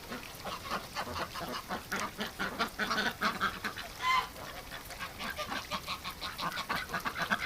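Geese honking repeatedly in a winter flock of ducks and geese, a dense, steady stream of overlapping calls at close to moderate distance with no talk.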